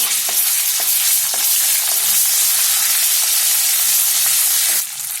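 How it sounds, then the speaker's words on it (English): Ginger garlic paste sautéing in hot oil, a loud continuous sizzle and hiss with occasional stirring clicks, no voices. "the ginger garlic paste first. Saute that a little in the oil."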